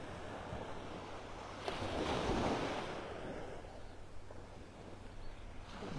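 Ocean waves wash onto a beach in North Naples, Florida, a continuous soft surf rumble with one fuller breaking wave swelling midway, mixed with light wind noise and no talking.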